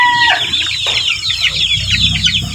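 Young chicks, a little over a month old, newly moved onto a range, chirp and cluck in a busy, overlapping chorus close to the listener.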